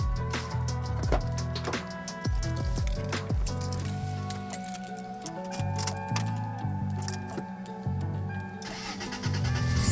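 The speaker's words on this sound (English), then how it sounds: "I'm gonna start the car" A first-generation Toyota Tacoma's engine cranks and catches, then settles into a loud, steady idle with ticking close by.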